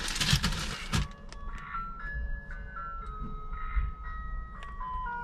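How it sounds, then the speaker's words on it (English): An ice cream truck's jingle drifts by, a thin chiming melody of stepping tones heard at a moderate distance over low street rumble, with a sharp clatter near the start and no talking. "Stupid ass ice cream truck."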